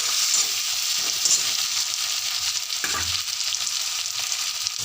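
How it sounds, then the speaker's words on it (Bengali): Chopped tomatoes fry with browned onions for an egg curry, a loud continuous sizzle with stirring scrapes throughout and one dull knock near the end. "টমেটো কুচি দিয়ে ভালো করে নাড়াচাড়া করতে হবে।"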